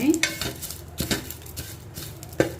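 Pumpkin seeds, curry leaves and drumstick leaves being stirred in a pan, with soft scraping and clinks of a utensil against metal and a faint sizzle, close and fairly quiet.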